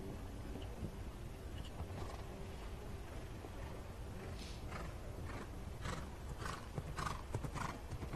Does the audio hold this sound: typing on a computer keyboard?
no